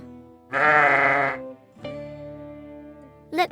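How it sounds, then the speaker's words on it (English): A sheep gives one loud, wavering bleat close by, followed by a softer, lower second bleat and a brief third cry at the end. "Look to the sheep."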